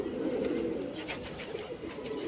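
A ten-year-old pigeon coos in soft, low, rolling murmurs, close and continuous for a couple of seconds with no other voices.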